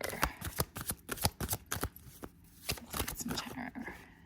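Tarot cards shuffled by hand, a rapid series of crisp riffling and slapping bursts close up, pausing briefly before more softer card handling.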